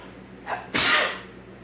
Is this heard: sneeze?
yes